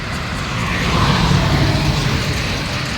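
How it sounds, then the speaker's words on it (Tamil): Steady low engine rumble of a vehicle, fairly loud and continuous, swelling slightly in the middle as if passing close by, with no voices. "வண்டி சவுண்ட் வந்துக்கிட்டே இருக்கும்"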